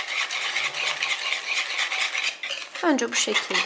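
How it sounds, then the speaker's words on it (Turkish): Eggs and sugar whisked by hand in a bowl for homemade baking-soda cookies, a steady rapid scraping and clinking that runs continuously, close and fairly loud, with someone briefly speaking near the end. "yumurta ve şekeri çırpıyorum güzelce"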